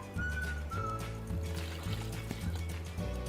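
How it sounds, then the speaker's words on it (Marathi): Milk from a large glass pours into grated apple inside a mixer jar, a steady liquid gush and trickle lasting a few seconds with a faint background hum. "किसलेल्या ॲपलमध्ये मी 1 मोठा ग्लास दूध टाकून घेते।"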